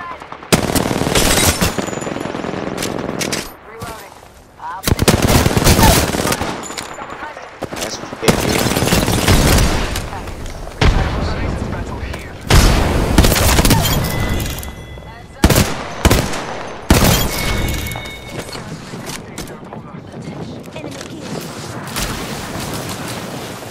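Video game gunfire: bursts of machine-gun fire and single shots come in loud, dense volleys separated by brief lulls, with people talking throughout.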